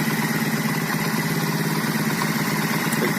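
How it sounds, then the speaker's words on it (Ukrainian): A Lancia Delta's engine runs close by, with a steady, rough idling rumble and even rhythmic chugging throughout the short clip. "Двигатель э, працює"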